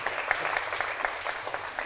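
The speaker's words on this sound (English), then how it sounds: "Guys, can we have a round of applause for David Fastuca?" An audience claps for a guest speaker at a startup founder talk, a moderate crowd of hands making a steady patter with individual claps popping out, no voices over it.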